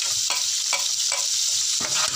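Softened fried onions with ground red chilli, coriander and crushed chilli are stirred in a sizzling pan: a continuous frying hiss broken by four or five rhythmic scraping strokes of a spoon, close and fairly loud.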